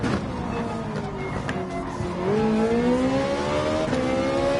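Viper and Ferrari race cars in Gran Turismo 7 accelerating out of slow turns, a steady loud engine roar with rising revs, a gear change partway through and faint tire squeal.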